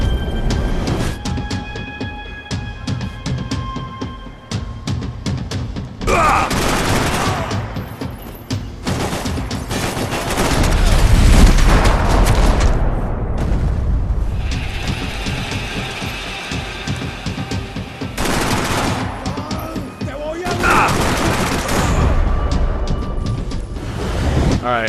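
Gunfire in Max Payne 3 sounds as loud, dense bursts of shots and impacts over a constant rumbling game soundscape, with a voice talking over the action at times.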